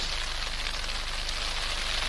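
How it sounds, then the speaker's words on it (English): Steady rain falling outdoors in Iceland, heard as a continuous even hiss of drops with no breaks, fairly close and alone with no voices. "It's raining, like, we got a tent, but we got a high mood"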